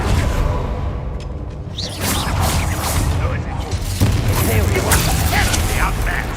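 Expelliarmus disarming spell cast during combat in Hogwarts Legacy: a swishing whoosh and dull boom amid continuous battle noise, with voices speaking over it.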